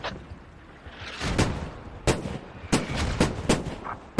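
Mortar fire in a video game match, several loud booming blasts at uneven gaps with rumbling tails, some overlapping, and no talk over them.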